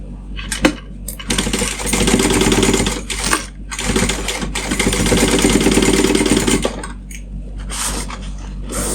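Sewing machine stitching the lining seam of a Midnight Kiss pouch at about a 3/8 inch seam allowance, running in steady bursts with brief pauses between runs, close up and alone.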